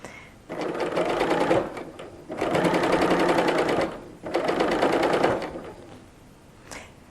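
Sewing machine stitching a shirt neckline, running in three steady bursts of rapid mechanical chatter separated by short pauses, close and clear.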